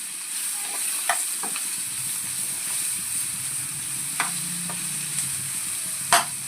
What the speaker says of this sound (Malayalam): ഇനി നമുക്ക് ഒരു 3 ചെറിയ പഴം ആയിരുന്നു തന്നെ ഇട്ട് ഒന്ന് വഴറ്റിയത്